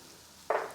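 Garlic hits a hot pan for a beef stir fry, giving a sudden, close sizzle that bursts in loud and then slowly tapers off after a quiet start.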